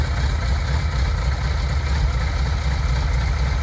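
A 2003 Suzuki GSX-R1000 K3 sport motorcycle with 8,000 miles idles steadily, a loud, even engine rumble close by with no change in revs and no talk.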